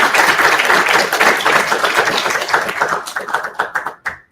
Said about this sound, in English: give him a quick round of applause